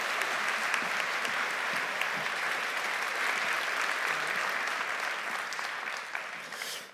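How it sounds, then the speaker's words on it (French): Sustained applause from a conference audience fills the room, dense steady clapping holding for several seconds before tapering slightly at the end. "Je vous demande là encore d'applaudir très fort Olivier Barbeau."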